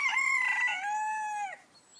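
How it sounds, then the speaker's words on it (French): A rooster lets out one full cock-a-doodle-doo, close and clear, rising and then holding before it drops off into quiet. "je vais vous montrer le coq que j'ai dit"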